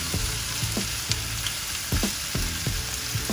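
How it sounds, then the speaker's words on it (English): Green capsicum sizzles steadily in a hot pan while a spoon scrapes through it in repeated stirring strokes, close and fairly loud, with no voices. "So now put the capsicum and give it a quick stir."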